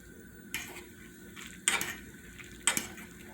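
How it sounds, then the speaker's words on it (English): Utensil clinks against a pot as an egg is stirred into cooking Japanese-style ramen, three sharp scraping taps spaced about a second apart over a quiet background. "Then you stir it up while it's cooking. And break the egg apart."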